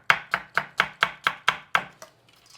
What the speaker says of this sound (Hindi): अभी इस वक्त आप लोगों के साथ बात भी कर रही हूँ और चॉप भी कर रही हूँ